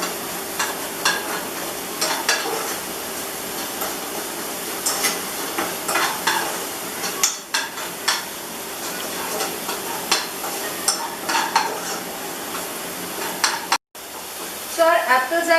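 Small apples cooking in melting sugar in a pan, a steady sizzle with repeated stirring scrapes and taps, a brief gap near the end, then a sharper bubbling burst; a voice speaks faintly at times.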